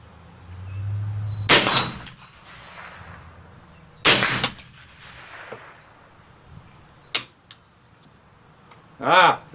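A Bear Creek Arsenal rifle with a failing firing pin gives two loud, close metallic clangs a few seconds apart, then a fainter click, in an outdoor setting.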